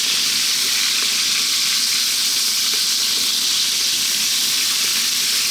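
Pork stir frying in a wok over very high heat, a loud, dense, continuous sizzle with faint scraping of stirring underneath, close and unbroken throughout.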